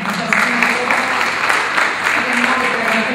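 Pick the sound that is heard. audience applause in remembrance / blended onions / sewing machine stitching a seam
audience applause in remembrance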